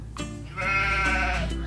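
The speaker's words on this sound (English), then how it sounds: "These bushy sheep are covered in wool." A woolly sheep gives one drawn-out, wavering bleat, close and clear, preceded by a softer short call.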